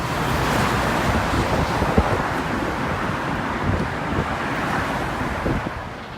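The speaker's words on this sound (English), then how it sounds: "the traffic never seems to stop" Steady traffic roar on Tokyo's Rainbow Bridge toward Odaiba, a constant broadband wash of passing vehicles mixed with wind buffeting the microphone, with a few louder thumps and no talking.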